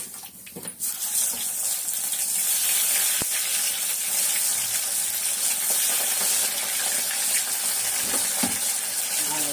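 Small fish frying in oil in a pan, a steady hiss and sizzle running throughout at close range, with a few clinks near the start.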